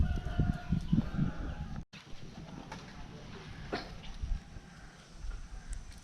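A small chicken crows outdoors, a loud, rough call in the first couple of seconds followed by fainter clucks and rustling over steady background noise.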